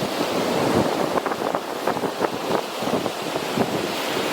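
Loud, noisy sea waves wash and break continuously close by, with gusting wind buffeting the microphone throughout and no voices.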